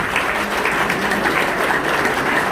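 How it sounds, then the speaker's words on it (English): Sustained applause fills a banquet room at an auto racing hall of fame induction lunch, a dense, even clatter of many hands clapping at steady volume with no break. "We want to give them a round of applause."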